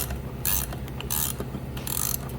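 A ratcheting gear wrench clicks rapidly in three short close bursts while working on a Duramax diesel power steering pump.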